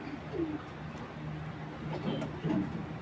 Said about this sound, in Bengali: দর্শক এখন দেখাচ্ছে এক জোড়া কালদম কবুতর